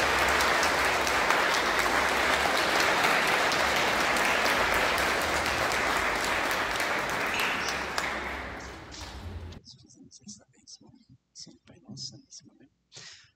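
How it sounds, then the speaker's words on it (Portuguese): Wedding guests at a ceremony in Catuipe, Brazil, break into loud, sustained applause that gradually fades. Scattered claps and a few voices follow once it dies down. "Vamos dar uma vibrante salva de palmas."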